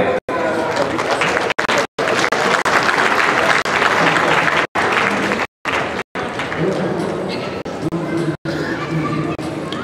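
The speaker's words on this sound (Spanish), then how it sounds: "de un fuerte aplauso a Santa María Cotera." Loud, sustained applause from an audience at a national Holstein dairy cow show in Mexico, briefly cut off several times, with an announcer's voice over it.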